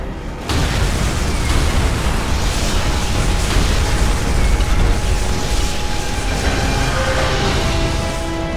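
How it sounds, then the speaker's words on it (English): Demolition charges explode in Call of Duty: World at War, a sudden loud blast that opens into a sustained, dense rumble of debris and roaring noise lasting several seconds. "Fireworks. Tell me those charges weren't duds."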